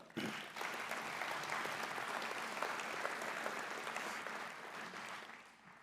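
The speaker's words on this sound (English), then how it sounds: "Please give them a round of applause for attending today." Attendees at a North Dakota petroleum awards luncheon applaud in a steady, even wash of clapping that holds for several seconds before tapering off, heard from some distance in a large room.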